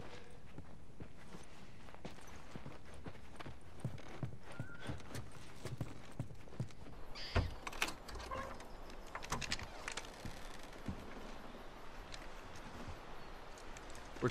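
Faint horse hoofbeats in The Last of Us clip-clop steadily at a walking pace amid soft ambient rustling, with occasional brief thuds and no talking.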